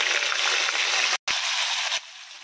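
Marinated fish lands in hot oil after fried onions, giving a close, steady frying sizzle with a brief gap in the middle before the sound drops to a quieter hiss.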